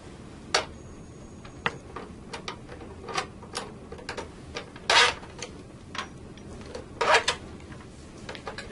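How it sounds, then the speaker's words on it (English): Non-captive screws come off a 3-pole NRX circuit breaker cover under a No. 2 Phillips screwdriver, heard as a series of close, sharp metallic clicks and ticks at uneven intervals with a few louder scraping bursts. "you must remove the 4 non-captive screws with a No."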